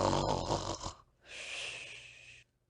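A narrator voices an imitation of a badger's snoring in a Beatrix Potter story read aloud, a rough breathy snort followed by a long hissing exhale, close and alone with no talk.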